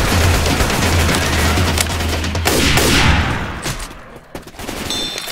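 Left 4 Dead 2 gunfire in a Tokyo-themed map: a dense, continuous fusillade of loud shots rattles throughout, with a low rumbling hum underneath for the first half.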